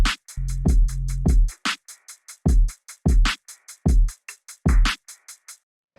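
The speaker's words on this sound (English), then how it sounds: "So the drums sound like this on their own." A drum loop for a beat in a particular producer's style plays alone. Punchy kicks and snappy snares are layered with fast, crisp hi-hat ticks, plus a booming sub-bass hit near the start, in a tight, syncopated, loud and upfront rhythm.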